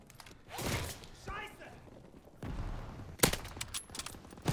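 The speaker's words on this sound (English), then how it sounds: "I'm getting sniped at, by the way." Sniper and rifle gunfire in the World War II shooter Call of Duty WW2, a few sharp cracks and bursts mixed with game noise under someone talking.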